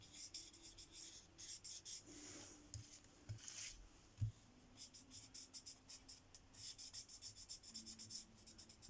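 A pen colouring a greeting card in red and pink, faint, quiet scratchy strokes that come in short repeated bursts with small pauses and a few soft knocks.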